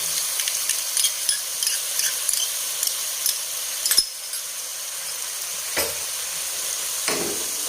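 A spoon stirs egg gravy with yogurt and ketchup in a cooking pan, soft scraping strokes over a continuous sizzle, with a few sharper clinks against the pan.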